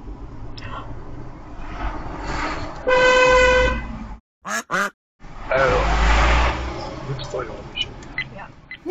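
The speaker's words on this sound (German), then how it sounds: "Nicht hupen, das bringt gar nichts und alle Babys erschrecken sich." A car horn honks in German traffic in a long steady blast, then two short toots, with traffic noise and road rumble around it and voices speaking in between.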